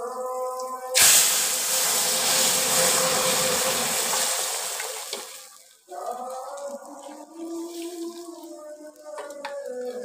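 Chickpea lentils (chana dal) hit hot oil tempered with panch phoron, bursting into a loud, steady sizzle that fades over several seconds before giving way to quieter kitchen sounds.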